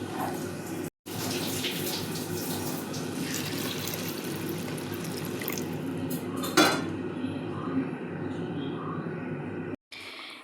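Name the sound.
boiled water poured into chicken gravy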